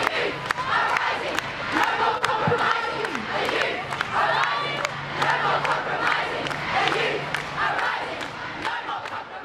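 A crowd of protesting school strikers shouts and chants together, loud and close, with sustained overlapping voices and occasional louder cries.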